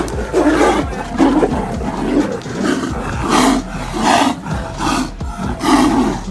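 Tiger and another wild animal roaring and snarling as they fight, loud repeated overlapping roars with harsh growls filling the whole stretch, close and continuous.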